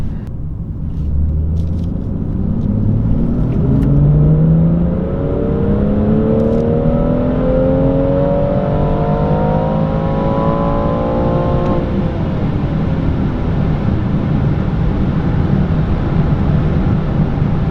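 A BMW M240i Stage 1 engine revs up steadily from low to high on a dyno, its whine climbing for about ten seconds before holding at a loud, constant roar.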